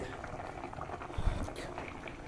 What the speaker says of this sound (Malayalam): നല്ലോണം തിളച്ചിട്ടുണ്ട് കേട്ടോ